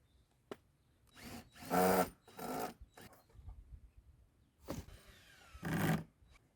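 A power tool runs in several short bursts, about four whirring spurts separated by pauses, while hinges are taken off a compost bin built from pallets, close and fairly loud.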